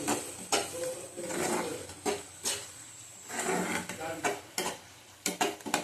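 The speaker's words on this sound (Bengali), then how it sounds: "আবার ভালো করে কষিয়ে নেব।" Spices are stirred and sautéed in a pan for a rohu fish curry, with a spoon scraping and knocking against the pan in irregular strokes over a soft sizzle.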